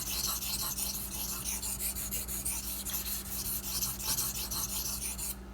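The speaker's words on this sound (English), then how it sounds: "I've already started running this knife across the main bevel on this stone." Steady rhythmic rasping strokes of a knife blade drawn across a 1000 grit Sigma Select whetstone during convex resharpening of a Ganzo knife, close and fairly quiet, with no talking.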